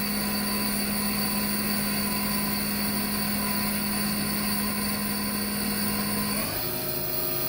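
An Okuma ESV-3016 vertical machining center spindle spins at 4000 RPM, a steady tonal whine over a constant mechanical hum, with the pitch shifting near the end as the speed changes.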